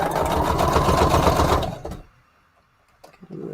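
A sewing machine runs a rapid, loud zigzag stitch through fabric onto a paper collage for nearly two seconds, then stops abruptly, leaving quiet with a few faint handling noises.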